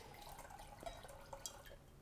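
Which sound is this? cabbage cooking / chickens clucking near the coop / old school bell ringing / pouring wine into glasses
pouring wine into glasses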